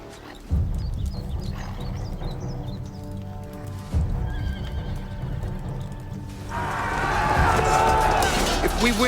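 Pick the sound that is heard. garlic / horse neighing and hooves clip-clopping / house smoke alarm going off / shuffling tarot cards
horse neighing and hooves clip-clopping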